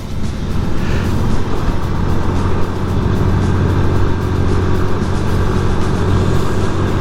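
Chevrolet Corvette Stingray passing on the road, a loud, constant engine and road roar, heard up close with no talk.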